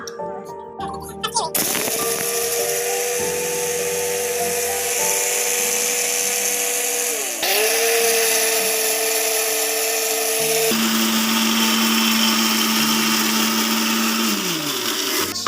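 A mixer grinder whirs loudly as it grinds chilli, tomato, onion and tamarind for fish curry, a sustained motor drone that shifts pitch as it pauses and restarts, close by with no speech.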